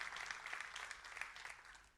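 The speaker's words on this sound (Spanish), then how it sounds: "¿Le puede dar un fuerte aplauso a eso?" A church congregation applauding, a faint, steady patter of many hands clapping that fades slightly toward the end.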